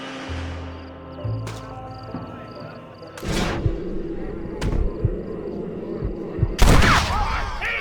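Gunfire in the Red Dead Redemption video game, several loud booming shots and a dense burst near the end, layered over rumbling game sound and a low background score.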